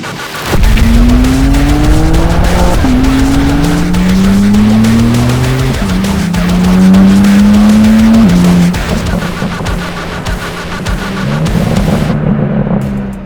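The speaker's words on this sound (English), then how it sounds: "This is the M4 CSL, and today we're driving it and giving you our thoughts on the world's toughest track, the Nürburgring." BMW M4 CSL with a twin-turbo 3-liter S58 engine driven hard on the Nürburgring, loud close engine note climbing through repeated upshifts, with steady high-rev roar and brief tire noise, no talk.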